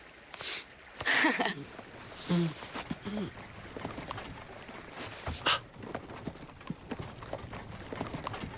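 Horse hooves clip-clopping as a horse-drawn cart approaches, irregular hoofbeats and rustling at moderate distance, with voices speaking over parts of it.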